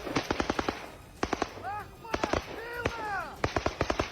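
Rapid bursts of machine gun fire crack out in several loud volleys into bushes during the Russia-Ukraine war, with brief pauses between them and a few ricocheting whistles.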